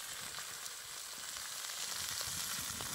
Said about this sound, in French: Puis je vais faire les champignons aussi à la poêle là-dessus.